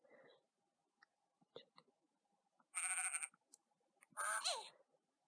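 Two short, bright sheep bleats from the video game Imagine: Babysitters ring out clearly, with soft clicks and faint whispery sounds in between against a quiet background.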